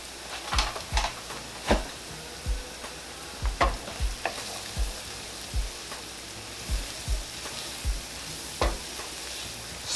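Beef stroganoff in a pan being stirred after a spoonful of flour goes in, with a soft continuous sizzle under repeated dull knocks and scrapes of the spoon against the pan at a loose, uneven rhythm, and no voice.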